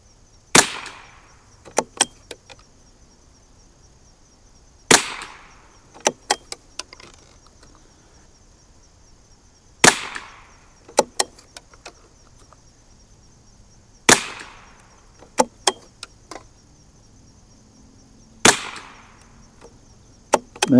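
A 1972 Anschutz Model 54 .22 match rifle fires a five-round group, with sharp single cracks spaced a few seconds apart, each followed by quick metallic clicks of the bolt, outdoors on a windy range.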